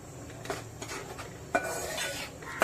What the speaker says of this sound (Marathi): आणि आता पिठलं चांगलं हलवत राहायचं आहे